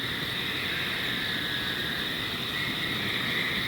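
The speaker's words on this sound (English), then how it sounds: "I hear frogs." Frogs calling at night in the woods: a dense, continuous chorus of trills, steady and moderately loud, with no voices over it.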